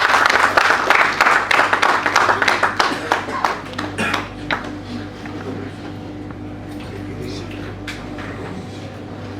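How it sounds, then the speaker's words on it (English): An audience at a cartoon festival in Visakhapatnam claps for a cartoonist, a dense burst of applause that fades over several seconds into scattered claps and room noise. "Please give a huge round of applause to him."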